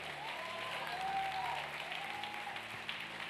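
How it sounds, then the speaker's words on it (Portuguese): Church congregation applauding together at a family worship service, a steady sustained wash of clapping with a faint whistle or tone drifting above it. "Se você crê nisso, aplauda o Senhor."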